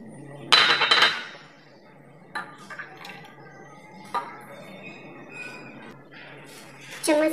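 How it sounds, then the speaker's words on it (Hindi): Spoon clinking against a glass while mixing carrot and orange juice, a few bright metallic taps and scrapes spread across the moment, with a voice speaking between them. "चम्मच से अच्छी तरह मिक्स कर लेते हैं"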